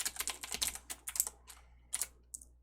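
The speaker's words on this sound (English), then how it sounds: "if I can type it correctly, of course" Typing on a computer keyboard during live game development work, a brisk run of close, crisp key clicks in short clusters with brief pauses, alone without talk.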